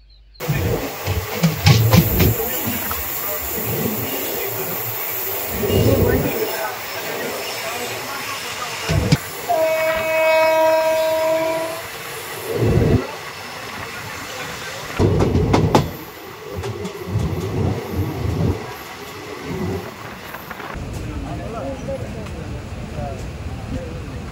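A local train from Tiruchirappalli to Madurai rumbles and hisses with rail clatter and a brief tonal horn or whistle midway, while people talk throughout.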